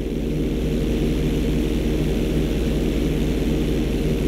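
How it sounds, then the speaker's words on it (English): A fixed-wing plane in Grand Theft Auto 5 flying while rolled upside down, a loud, steady propeller engine drone with a pulsing low hum, constant and close throughout, no voices. "Okay, roll the plane upside down."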